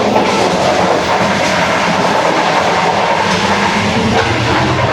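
Shalimar Express luxury train running fast on the rails near Jammu, heard from by the carriage door, a loud continuous roar of wheels and rushing air with steady rattling clatter throughout.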